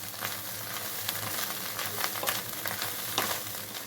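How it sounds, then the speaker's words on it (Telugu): Fish eggs frying in a pan on a stove, a steady close sizzle with soft stirring scrapes running through the whole stretch, no talking. "ఒక నిమిషం మొత్తం స్టవ్ మీద ఉంచుకొని కలుపుకొని డిష్ అవుట్ చేసుకుంటానండి"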